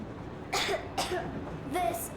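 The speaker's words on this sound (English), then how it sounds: "I have this cough." A young girl coughs three times in short, hoarse bursts, close and fairly loud, each one separated by a brief pause, in the video game Metro Exodus.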